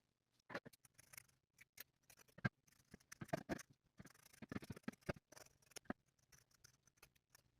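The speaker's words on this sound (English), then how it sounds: "I'm going to trim those seam allowances that we just sewed," Scissors trim freshly sewn seam allowances and corners on a shirt collar, a quiet run of irregular, close snips with no talk.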